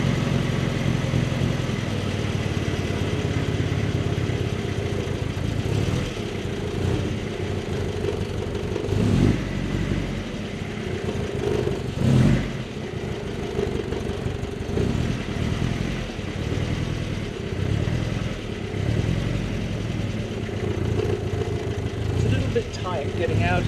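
A 1961 Triumph TR3A drives slowly around a neighborhood, its engine rumbling at a low idle and rising in short revs, with occasional bumps and someone talking over it throughout.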